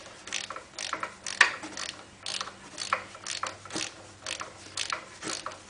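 A torque wrench ratchets in repeated short bursts of clicking while a BMW K75 final drive's bolts are tightened, close and fairly quiet, with an irregular rhythm of strokes.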